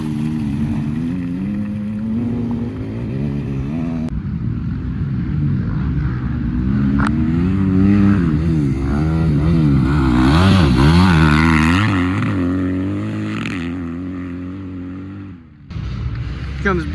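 Motocross dirt bikes racing on a muddy track at the MXC Thayer Extreme Round 1 event, engines whining and revving up and down, one bike swelling loudly as it passes near before fading.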